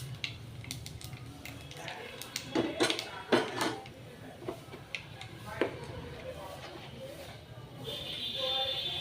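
Black cumin (kalonji) seeds temper in hot oil in a cooking pan, giving a soft, steady sizzle. Scattered metallic clinks and scrapes of a utensil against the pan rise above it.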